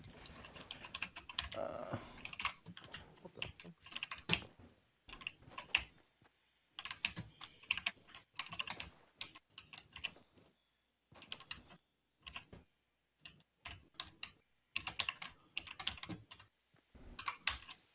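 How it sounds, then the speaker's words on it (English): Loud, close computer keyboard typing comes in rapid clattering bursts separated by short pauses, with keys pounded hard and no talking. "keyboard is so loud"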